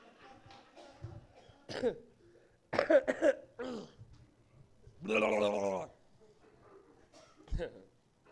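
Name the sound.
coughing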